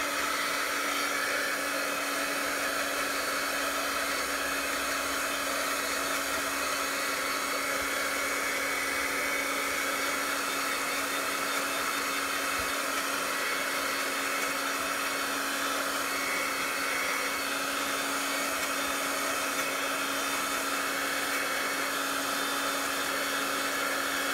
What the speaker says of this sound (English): if you don't want to hear me blow drying